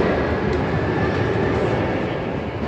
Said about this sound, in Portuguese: É um Shinkansen novo, inclusive.